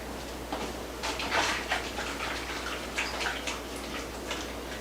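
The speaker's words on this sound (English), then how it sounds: "let me wash my hands real quick" Running water pours steadily from a kitchen tap while hands are washed beneath it, a continuous close hiss with slight splashing variation and no talking.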